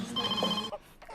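A telephone rings in a doctors' surgery with a loud, steady electronic bell tone lasting most of a second, then cuts off, leaving quiet room noise and a faint stir afterward.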